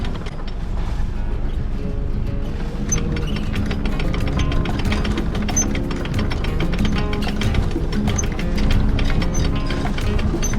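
A sailboat's engine idles in forward gear, a steady loud mechanical rumble with a faint ticking rattle running without pause, and no talk over it.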